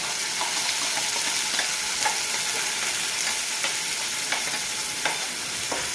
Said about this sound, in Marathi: ही ग्रेव्ही पण अशी तुपात परतून घ्यायची